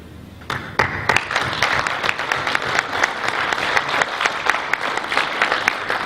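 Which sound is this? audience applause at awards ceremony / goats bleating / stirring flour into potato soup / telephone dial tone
audience applause at awards ceremony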